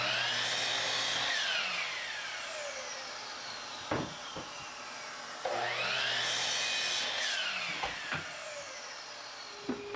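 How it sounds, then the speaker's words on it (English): A jointer planes 2x4 boards on an aggressive setting, its steady whine rising into a loud cutting roar on each of two passes, with knocks and clunks of the boards being handled between them. "I'm setting my joiner a little aggressive, so I need 1 pass per side, saving me a lot of time."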